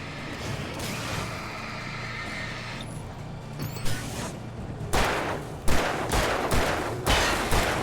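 Shotgun fire in the video game Alan Wake: a continuous din of game sounds breaks into several loud, close blasts in quick succession, each followed by a brief trailing echo.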